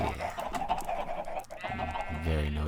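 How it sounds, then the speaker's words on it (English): A group of chickens clucks continuously in the video game Minecraft, close and noisy, with overlapping short calls and a brief tonal sound near the end. "I think I got plenty of chickens for now"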